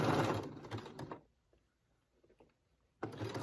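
A sewing machine top stitching a swimsuit whirs in short busy runs, stopping for a quiet pause in the middle before starting again, close and moderately loud.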